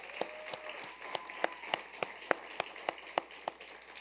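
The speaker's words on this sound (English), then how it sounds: "So let's join together and give them all teachers across the city a round of applause" A ceremony audience at a youth awards event gives teachers a round of applause, heard as a steady bed of clapping with about a dozen sharp, evenly spaced louder claps standing out near the front.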